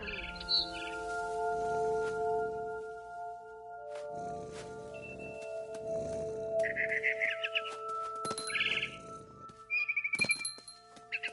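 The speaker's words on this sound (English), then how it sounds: "Then I heard chirping outside my window. It was a barn swallow going back to her nest." Short bright barn swallow chirps in a video game over a steady musical drone, a few scattered calls coming in separate bursts.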